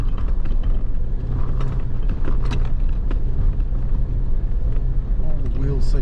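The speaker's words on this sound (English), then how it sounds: "very sharp, rocky, bumpy sort of ascent here" A Nissan Navara fitted with KONI RAID suspension crawls up a sharp, rocky, bumpy ascent in the Victorian High Country, its engine rumbling steadily under creaks and knocks from the suspension and body as the wheels climb over rocks.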